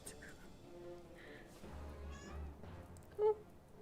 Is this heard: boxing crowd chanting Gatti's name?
no